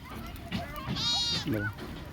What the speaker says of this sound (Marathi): मेंढ्या चारायला लागल्यात ना मेंढ्या थोड्याच कुठे जायला लागल्यात